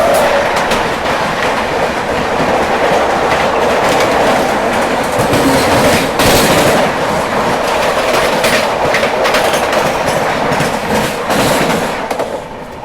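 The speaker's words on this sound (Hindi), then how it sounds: "हावड़ा मुंबई मेल आ रही है" The Howrah Mumbai Mail passenger train rolls past close by, a loud continuous roar of wheels with rhythmic clickety-clack over the rails lasting the whole stretch before easing slightly at the end.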